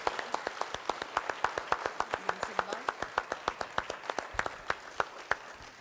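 Scattered, sparse clapping from a small audience at a mayoral candidate debate, distinct individual claps in a steady uneven rhythm, fairly close and moderately loud.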